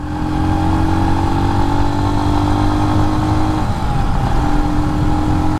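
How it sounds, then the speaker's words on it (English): Royal Enfield Scram 411 motorcycle with a 411cc single-cylinder engine drones steadily while riding, a loud, close, continuous thrum with a slight pitch shift partway through, no voices. "the 411cc 24 horsepower single cylinder engine does push you along quite nicely"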